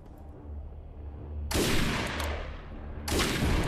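Two bursts of heavy gunfire in the video game Defiance crack out loud and close, the first lasting over a second and the second starting near the end, both after a quieter low rumble.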